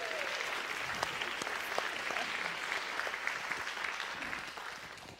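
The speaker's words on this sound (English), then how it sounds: "Let's give everybody a round of applause." Steady applause from an audience at an elders' talk event, a continuous rain of many hands clapping, fairly distant and even throughout with faint crowd murmur.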